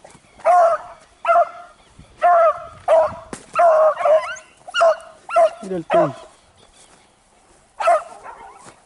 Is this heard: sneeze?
no